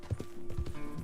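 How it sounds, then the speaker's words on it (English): Horse hooves clip-clop in a video game, a quick, steady walking rhythm of hoofbeats over a low background hum, with no one talking. "Look at my horse."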